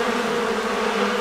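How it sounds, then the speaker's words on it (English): A buzzing swarm of bees, a steady, dense drone with no gaps, close and fairly loud throughout. "it's a swarm of bees"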